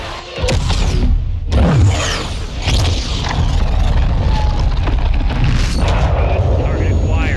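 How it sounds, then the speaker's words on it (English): A missile launch in the Call of Duty MW2 campaign erupts as a deep, loud boom with a rushing whoosh, followed by a sustained heavy rumble that fills the remaining seconds. "Missile is ready for immediate delivery. Stand by for launch."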